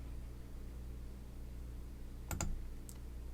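Brief typing of a course code on a computer keyboard: a quick cluster of a few key clicks followed by one more tap, faint against a steady background hum.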